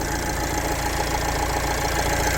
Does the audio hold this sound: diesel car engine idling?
yes